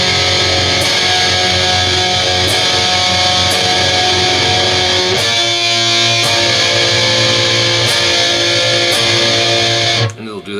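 A distorted electric guitar plays a riff, sustained loud chords ringing with a steady pulse before cutting off near the end.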